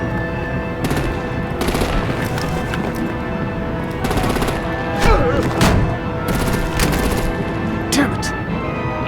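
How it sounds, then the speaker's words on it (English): Artillery and gunfire in the Batman video game The Enemy Within, with repeated bursts of rapid shots and booms over a constant loud background din, mixed with voices talking and shouting. "Break out the artillery and disable their vehicles!"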